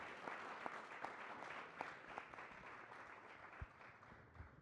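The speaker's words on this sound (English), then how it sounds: "Please help me give a warm round of applause to our fellows." Applause from an audience at a panel event on democracy and capitalism in the Americas, greeting the fellows: quiet, fairly distant, steady clapping that holds for several seconds with a few sharper claps standing out.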